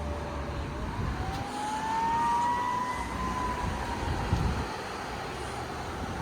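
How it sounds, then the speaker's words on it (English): An emergency siren wails as it passes at a distance, rising and falling over steady traffic rumble, with no voices. "we can't go nowhere without hearing some sirens"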